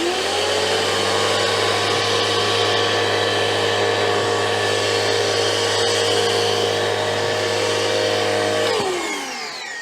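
Kraft&Dele KD432 washer with a steady, loud motor whine and strong low hum that runs evenly for several seconds, then winds down near the end, with no talk over it.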